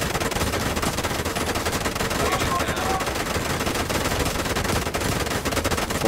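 Sustained automatic machine gun fire in the video game The Division 2, dense rapid bursts running continuously and loudly throughout with no pauses.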